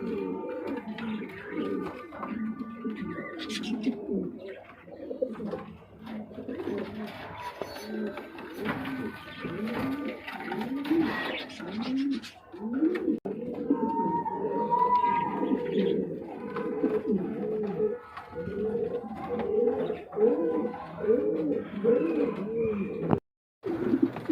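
Pigeons coo over and over in repeated rolling phrases from birds kept for sale as pairs, close and steady throughout with no talk.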